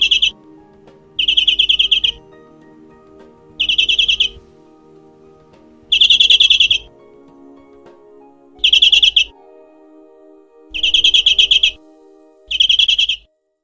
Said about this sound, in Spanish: Emiten un canto vivaz muy similar al de los canarios